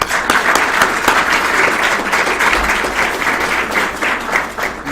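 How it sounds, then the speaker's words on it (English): Steady, loud applause from a seated audience at an investment lecture event, dense clapping sustained throughout with no talking. "I would give her a round of applause"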